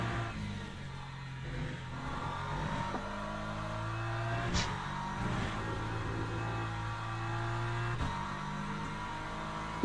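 A GT3 race car at Le Mans held at full throttle, its engine droning at a steady high pitch from inside the cockpit, with brief clunks of gear changes and no voices.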